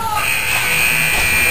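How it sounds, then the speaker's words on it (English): A loud, steady arena buzzer drones through a hockey game, sustained across the moment beneath an excited play-by-play commentator's voice. "Oh, the buzzer."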